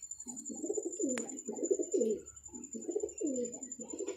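Chapre pigeons coo in soft, repeated throaty bursts close by, a steady series of rolling calls with a faint high electronic whine in the background.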